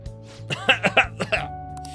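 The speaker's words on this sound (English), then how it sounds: "you keep coughing all over everything" A Persona 5 Royal character coughs in a short burst of about five sharp, close hacks over a steady low game music hum, with no talk.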